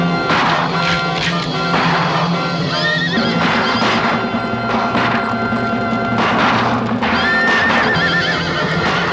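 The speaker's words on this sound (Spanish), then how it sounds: "Voy a enganchar los caballos a la diligencia." Several horses hitched near a stagecoach in a western film scene neigh and whinny repeatedly over loud clip-clopping hooves and a busy mix of background sound, with no speech.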